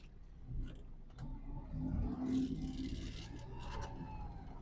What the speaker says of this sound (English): Oh, did we just do a burnout?